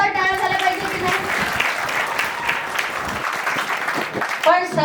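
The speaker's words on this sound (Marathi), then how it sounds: "यांच्यासाठी पण जोरदार टाळ्या झाल्या पाहिजे की नाही?" An audience of children at a values camp applauds their captains with brisk, continuous clapping, with a voice speaking briefly at the start and again at the end.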